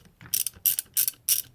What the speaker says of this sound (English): we're going to go one more round around all of these units, all these bolts, to make sure they're tight